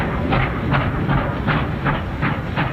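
Steam locomotive train running on rails on a Boston–Springfield–New Haven route, a steady rhythmic chuffing or clatter recurring about every 0.4 seconds over a continuous low rumble, loud and close with no talk.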